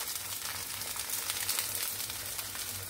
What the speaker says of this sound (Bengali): আলুটাকে একটু ভেজে নেব।